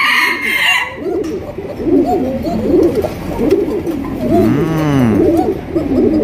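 A large single Jhorna satin pigeon coos in repeated, rhythmic, close and loud phrases, with a brief harsher rising call near the end.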